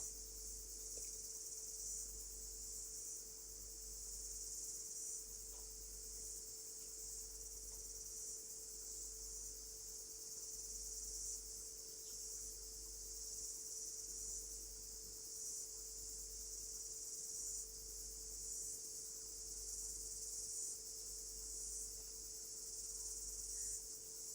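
Cicadas chirp in a steady, unbroken high-pitched drone at moderate distance, with a faint low hum beneath and no other sounds for the whole stretch.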